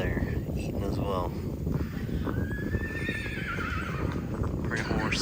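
A horse at a horse auction neighs, giving a few rising and falling whinnies amid outdoor bustle and the occasional clop of hooves, with people talking nearby.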